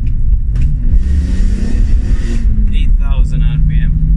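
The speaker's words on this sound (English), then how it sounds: "Yeah, the noise, we're gonna talk about that as I did that downshift." A BMW M3 E46 with its 3.2-litre S54 inline six, which revs to about 8,000 rpm, blips and revs on a downshift. A rushing engine burst rises and fades over a low rumble, and a person talks over it.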